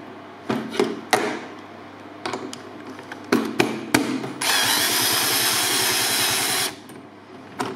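Screw being driven down from above into the seat box of a Hawk electric scooter, with several short clattering knocks and a sustained buzzing power-tool run near the end, close and fairly loud.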